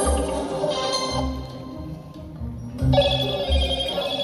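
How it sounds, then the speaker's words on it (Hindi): A telephone rings in repeated bursts, a steady electronic trill pausing briefly between rings, fairly close and alone. "बॉस का फोन आ रहा है।"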